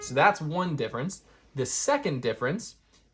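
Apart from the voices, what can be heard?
No distinct noise like a dog, phone or traffic.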